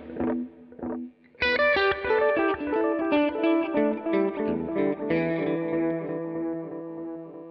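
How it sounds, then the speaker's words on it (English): An electric guitar played through a NUX Trident multi-effects unit with delay and reverb running in parallel: a few muted picked notes, then a loud strummed chord and melodic notes ringing out with echoing repeats and a lush reverb tail. "you get the option of having the two modules running in parallel"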